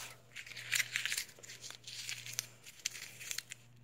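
A sheet of paper is crumpled by hand, giving crisp crinkles and sharp crackles in short irregular bursts, close and fairly quiet over a low hum.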